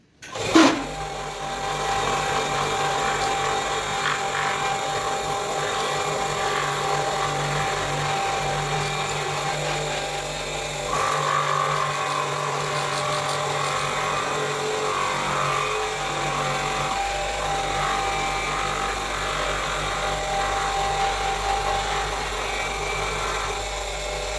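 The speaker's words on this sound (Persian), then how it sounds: "آخرین مرحله پولیش شماره 1200." Steady, loud whir of a gemstone polishing machine at the final 1200-grit polishing stage in a gem-cutting workshop, running continuously with a slight shift in tone partway through and no talking.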